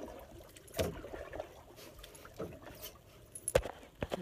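Canoe paddle strokes on jungle water, a few soft splashing dips spaced irregularly and fairly quiet, with one or two sharper strikes near the end.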